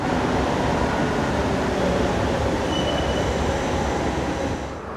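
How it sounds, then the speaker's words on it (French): Inside a Marseille metro train at Joliette station, a loud, steady rumble of rolling wheels and motors fills the carriage, with faint high squeals over it, easing slightly at the very end. "dans le métro Joliette à Marseille, il est 19h, il n'y a absolument personne"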